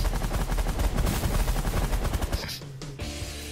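Rapid weapons fire in the space strategy game The Last Federation, a dense loud barrage of repeated shots and booms that cuts out sharply near the end, leaving a low droning hum.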